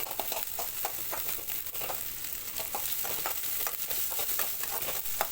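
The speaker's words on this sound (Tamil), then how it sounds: "நல்லா கலர் மாற வரைக்கும் நல்லா வணக்கணும்." Ingredients for tomato thokku sautéing in a pan: a steady, close sizzle runs throughout, broken by repeated scraping stirs, with no one speaking.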